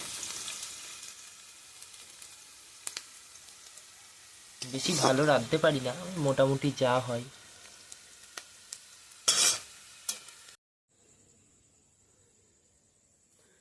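Frying and stirring in a pan while cooking chowmein, with a bright sizzle and rhythmic scraping strokes that come and go in bursts, a voice talking over part of it, then a sudden cut to near silence with a faint tone.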